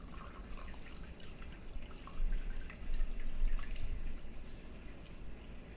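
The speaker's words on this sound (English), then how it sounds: "we're just going to dump that whole jar through the strainer or the filter." Cold brew coffee is poured from a jar through a strainer filter into a glass pitcher, giving a steady trickling, splashing stream close by that swells louder midway and then settles, with no talk.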